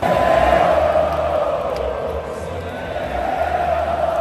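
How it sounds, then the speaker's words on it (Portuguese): Football supporters singing together in a packed stadium during a tense Libertadores final between Fluminense and Boca, a steady sustained chant of many voices carrying throughout with a dense crowd roar beneath. "Torcida cantando time de guerreiro aqui,"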